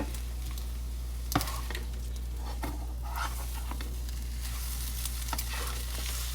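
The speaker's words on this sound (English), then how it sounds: "I'm going to take this, scramblize the eggs" Eggs scrambled in a hot pan, sizzling steadily throughout, with a spatula scraping and knocking against the pan several times, close and clear.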